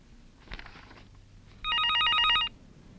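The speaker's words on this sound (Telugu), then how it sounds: "మన సత్య ఫోన్ చేశాడు" An electronic telephone bell trills in one clear, loud burst lasting under a second, following a brief muffled rustle, in an indoor film scene with no talk over it.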